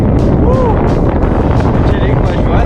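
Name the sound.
strong wind blowing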